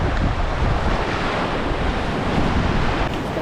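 Gentle surf washes onto a beach at Pattaya in a continuous, steady rush, with wind buffeting the microphone throughout.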